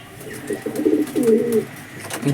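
Giribaz pigeons coo close by in a few soft, throaty, repeated phrases, with a brief pause before another coo begins.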